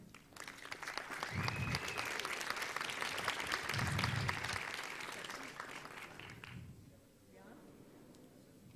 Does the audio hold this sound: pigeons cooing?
no